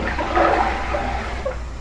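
Tap water runs steadily to rinse broccoli in a home kitchen, a close, constant splashing stream that continues without talk for a couple of seconds.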